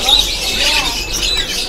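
Canaries at a bird market kiosk, white-feathered birds among them, give high, thin chirps and short whistles over a busy background murmur, with voices faintly underneath.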